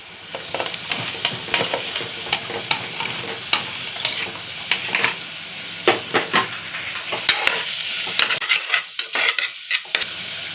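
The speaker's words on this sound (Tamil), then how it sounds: "இப்போ நான் கோஸ் சேர்த்துக்கிறேன்." Shredded cabbage being stirred in a hot pan for a spinach stem soup, with a constant sizzle broken by repeated scraping strokes of a spoon against the pan in an uneven rhythm, close and fairly loud.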